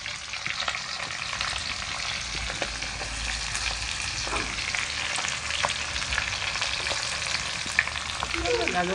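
Onions frying in a pan for chicken fried rice, a loud continuous sizzle with scraping stirring strokes throughout, close and without talk.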